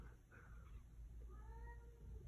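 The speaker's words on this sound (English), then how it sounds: "Oh man, JoJo's really meowing." A cat named JoJo meows repeatedly indoors, a few drawn-out cries in a row over a low, steady household hum, with no talking.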